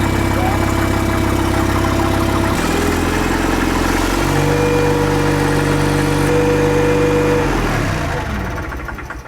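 An engine driving a generator unit with an alternator runs loud and close, its pitch shifting up as throttle is applied, then winding down toward the end.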